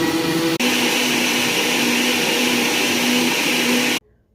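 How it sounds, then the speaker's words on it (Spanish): An Oster blender on its juice setting whirs loudly and steadily, blending grapes, celery, apple and orange with water, then shuts off abruptly, leaving near silence. "vamos a licuar. Ok, la encendemos y ponemos la opción de jugos"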